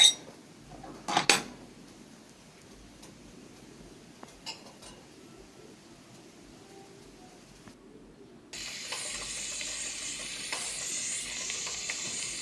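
Eggs and salt are beaten together in a bowl for a potato egg omelette: a few quick clinks of utensil on bowl, then quiet scraping, and a steady soft hiss near the end.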